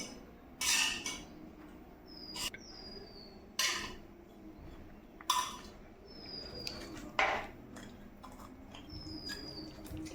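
Spoon stirring rui fish curry with bori, drumsticks and potato in a pot, a series of separate clinking scrapes against the metal every second or two, with faint bird chirps in the background.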